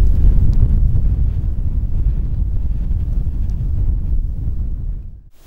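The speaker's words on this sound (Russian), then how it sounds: "Подул сильный ветер, небо затянуло облаками, периодически вот идет снег." Strong outdoor wind buffets the microphone with a loud, low rumbling roar that persists steadily before easing off at the end, on a cold, cloudy day with snow by the water while fishing for pike.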